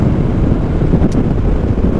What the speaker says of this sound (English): Why it's so windy today?